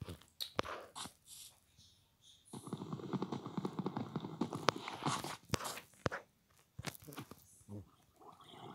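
Horse hooves in a video game, a rapid clip-clopping run of hoofbeats in the middle stretch amid scattered clicks and thumps, fairly quiet overall.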